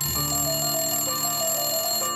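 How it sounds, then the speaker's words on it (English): A telephone rings in a steady tonal burst, loud and close, and its ringing fills the whole stretch with no voices over it. "Campbell tells us there's literally almost a phone ringing"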